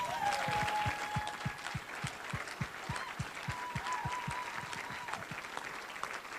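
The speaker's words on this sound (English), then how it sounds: "give a good round of applause for this year's Hall of Fame inductee" Applause at an awards banquet for a Hall of Fame inductee, scattered close hand claps in a steady rhythm with a faint background hum, no speech.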